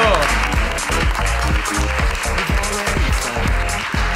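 A live comedy podcast audience applauds, a loud, dense burst of clapping and cheering from a packed room, with a voice speaking over the noise.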